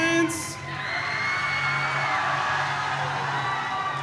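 A large arena crowd at a robotics competition district event cheers and whoops loudly for the Blue Alliance, a sustained roar of yells and shouts filling the space without a break.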